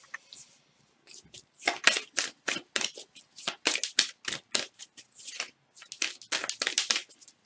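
Oracle cards being shuffled and drawn by hand, a rapid run of crisp papery slaps and riffles in quick irregular bursts, close and fairly loud, with no talking.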